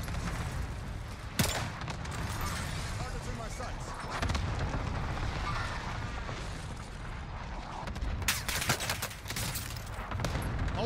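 Gunfire in Call of Duty: Warzone, with near and distant shots, cracks and rumbling blasts running throughout. A player talks over the steady battle noise.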